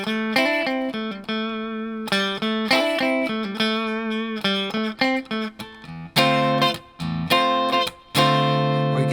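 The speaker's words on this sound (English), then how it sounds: "that's just a simple pentatonic line, this classic hook to this song" Electric guitar playing a pentatonic hook line, a bright, slightly overdriven riff of quick plucked notes and short phrases, played alone and close for about nine seconds.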